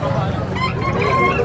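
Chickens cluck and a rooster crows at a farm in Bocaue, several birds calling over one another nearby, with a constant background hum throughout.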